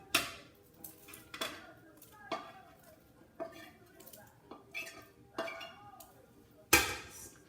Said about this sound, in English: So now I'm going to just put it back into the pot